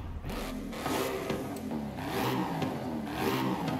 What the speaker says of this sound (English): It revs up so quickly.